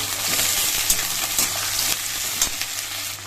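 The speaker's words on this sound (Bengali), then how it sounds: "এই দেখো এখানে তেলের মধ্যে তেজপাতা আর হচ্ছে পেঁয়াজ দিয়ে দিলাম" Bay leaf and onion dropped into hot oil crackle with a loud, close sizzle, broken by several quick clinks and scrapes of a stirring spoon against the pan.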